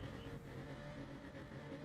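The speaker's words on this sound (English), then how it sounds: "Revs are rising." Sim racing cars idle and rev on the grid before the start of a preseason test race, a dense, steady engine drone with layered harmonics holding level and loud throughout.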